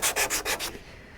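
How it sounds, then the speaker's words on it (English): Sanding micro filler smooth on a Viper Jet aircraft produces four quick, close, raspy strokes in an even rhythm, then stops. "Sanding,"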